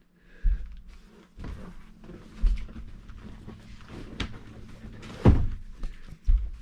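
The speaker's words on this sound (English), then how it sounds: "this bed lifts up, folds down, nice and smooth" A bunk bed in a 2017 Open Range 3X427BHS travel trailer is lifted up and folded down, giving several soft thuds and clunks with faint creaks in between, heard close with no talking.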